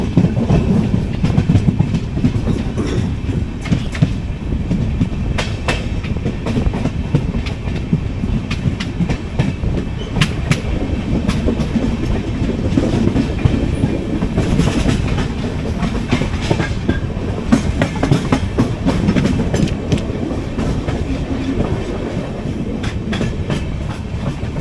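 The 22476 Coimbatore–Hisar AC Express runs on Indian rails with a continuous close rumble and a steady, rhythmic clickety-clack of wheels over rail joints, without any talk.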